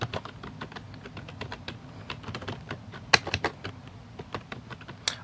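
Rapid, irregular clicks of typing on a keyboard, close and crisp, a steady run of keystrokes with a few louder taps and no talking.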